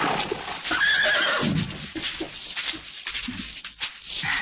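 A horse neighs loudly and close, a long shaky whinny at the start followed by snorts, hoof clip-clops and shuffling movement.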